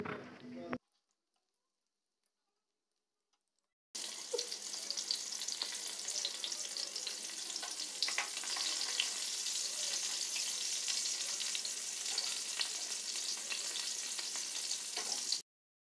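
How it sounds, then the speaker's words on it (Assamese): Marinated chicken for tandoori sizzles in refined oil over medium heat, a loud, steady close-up fry that starts after a few seconds of silence and runs unbroken to the end. "এতিয়া মই ইয়াত মিডিয়াম জুইত এইখিনি ভাজি থাকিম।"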